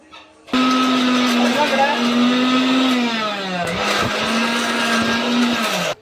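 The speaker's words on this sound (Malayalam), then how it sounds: "ഇനി നന്നായി വെണ്ണ പോലെ അരക്കിട്ട് കേട്ടോ ലിഞ്ചു" A kitchen mixer grinder whirs loudly and steadily as it grinds an onion and spice paste, its pitch dipping briefly midway as the load shifts before settling again, running almost without pause until it cuts off at the end.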